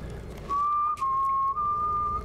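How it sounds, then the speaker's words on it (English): Whistling from How to Train Your Dragon 2, a single sustained clear whistled tone held for nearly two seconds with slight breaks, loud and alone. "The whistle of Riz."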